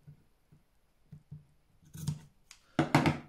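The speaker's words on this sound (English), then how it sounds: "Fabric scissors." Fabric scissors snip through fabric, a few soft quiet cuts at first, then louder, crisper snips toward the end.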